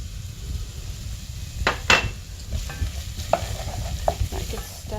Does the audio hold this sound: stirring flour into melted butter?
yes